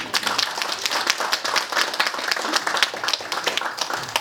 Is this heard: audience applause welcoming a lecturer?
yes